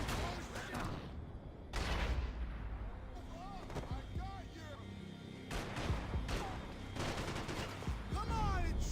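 Gunfire in Max Payne 3 comes in loud, rapid bursts and single shots, some heavy and booming, with voices talking between and over the shots.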